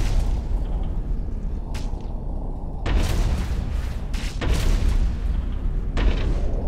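Missiles launched in the space combat game Starfarer, heard as a series of loud broadband booms and blasts, roughly five bursts over a steady rumbling battle din with no speech.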